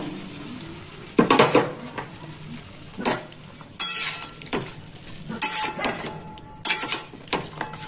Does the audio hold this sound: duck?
no